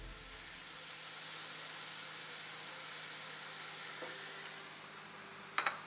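Curry and thyme sizzle in a pan, a steady quiet frying hiss that runs throughout, with a faint utensil tap midway and a brief clatter near the end, with no talking.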